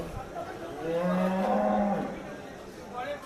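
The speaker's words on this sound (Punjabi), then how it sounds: "ਦੇਖ ਜੀ ਮੱਝ ਵਧੀਆ ਸੋਹਣੀ ਮੱਝ" A single deep, drawn-out low from a black Murrah water buffalo at the Dhanaula livestock market, close and fairly loud, over quiet background noise.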